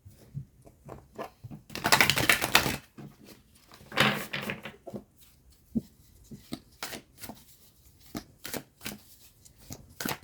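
Tarot cards shuffle in a quick riffle partway through, followed by scattered taps and shuffling as cards are handled and laid out.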